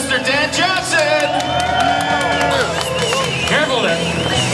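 Crowd cheering and whooping for a trials bike rider at an indoor convention center show, loud and sustained with shouts, over an announcer's amplified voice and ringing tonal sounds.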